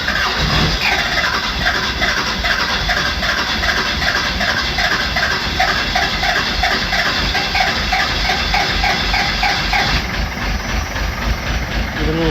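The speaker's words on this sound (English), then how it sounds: "Now it should fire right up." Small engine fires up right after new fuel injectors are fitted, running steadily with a continuous loud rumble and hiss throughout, its tone shifting near the end as it settles.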